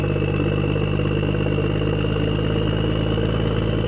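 A cartoon motorbike engine runs in a loud, constant, rumbling drone, close and unbroken throughout, with no voices over it.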